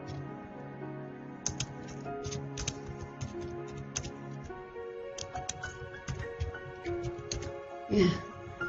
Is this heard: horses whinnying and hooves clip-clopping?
no